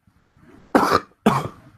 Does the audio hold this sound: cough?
yes